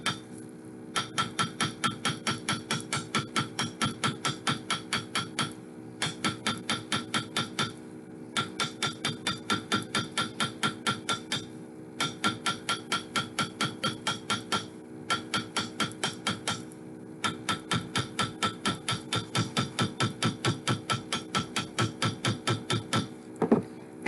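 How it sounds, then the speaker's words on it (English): Hammering a wire bangle on a heavy steel mandrel, steady rapid metallic taps in repeated runs of many blows separated by short pauses, close and crisp. "So, just try and hit the round surface on your wire."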